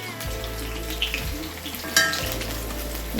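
Ash gourd pakoras frying in hot oil in a pan, a continuous close sizzle with a few clinks and scrapes of a utensil turning them, and a brief sharper knock partway through.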